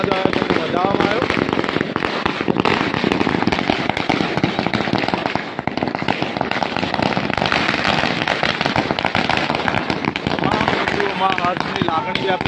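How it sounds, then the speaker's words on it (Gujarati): Fireworks and firecrackers burst in a dense, continuous barrage of loud cracks and pops at a Vishwa Hindu Parishad celebration outside a building, with crowd voices mixed in. "ડોક્ટર મણિકર્ણ ભવન પર આતશબાજી કરવામાં આવી"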